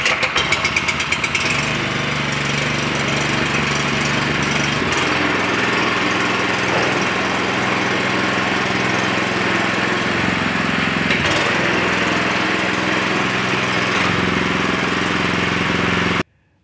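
A Troy-Bilt Horse tiller's replacement engine runs steadily and loudly close up for about sixteen seconds, its droning note shifting slightly partway through, then cuts off abruptly at the end.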